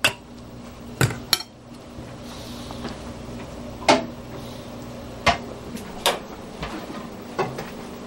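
Cooked spaghetti squash from a home garden being served onto a plate, heard as a handful of sharp, separate clinks and knocks of utensils against dishware spread over several seconds, close, with quiet room tone between and no talking.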